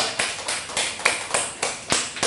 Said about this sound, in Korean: 하나님께 감사의 박수 올려드립니다.